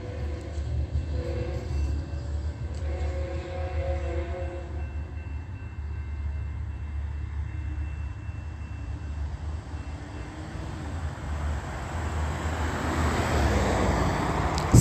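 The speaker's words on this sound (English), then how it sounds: "And that is Metrolink. That's going eastbound" Metrolink commuter train passing eastbound at night, a sustained low rumble and rail noise with tonal horn-like notes early on, building louder toward the end as it nears; no talk.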